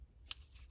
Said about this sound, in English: I want to snip the corners.